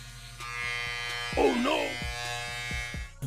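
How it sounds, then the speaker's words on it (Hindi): An electric hair trimmer buzzes steadily and close up while cutting a child's hair, its motor drone holding a constant pitch throughout with a brief louder rise as the blades bite in near the middle. "ये सोचकर इस बच्चे ने ट्रिमर अपने हाथ में ले लिया और बाल काटने लग गया।"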